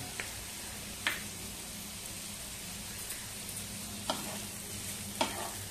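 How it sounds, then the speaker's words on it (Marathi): Bitter gourd frying in oil, a soft steady sizzle with a few sharp scraping stirs of a spoon against the pan at spaced intervals. "कारलं चांगलं परतवून घेतलंय तेलावरती."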